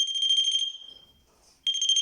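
Mobile phone alert sounding as a bright, loud electronic beeping tone, cutting off for about a second and then starting again, with no talk over it.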